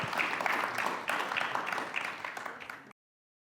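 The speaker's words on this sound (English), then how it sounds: "big round of applause, please" A small audience claps in a brief, dense round of applause at the close of a fireside chat at a podcast event, and the sound stops abruptly.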